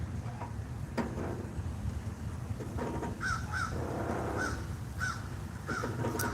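A crow caws several times in a short series, each call clear against a steady low outdoor rumble, with no speech.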